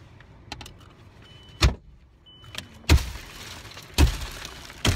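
Car window glass broken during a roadside traffic stop: several sharp, loud impacts strike at intervals of about a second, each followed by a brief crunching scatter, close and with no talking.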